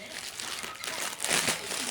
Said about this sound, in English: Are you having fun with that plastic bag?